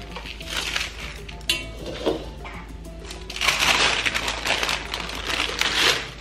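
A roasting dish for pork is handled and set down in a kitchen, giving a run of close clattering knocks, scrapes and crinkling that swell into a busier burst of clanks toward the end.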